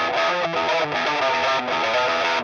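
Electric guitar played through a heavy high-gain distortion amp plugin, recorded direct at home without an amp or microphone, gives a loud, dense, saturated riff with chugging, rhythmic palm-muted attacks and no voice over it.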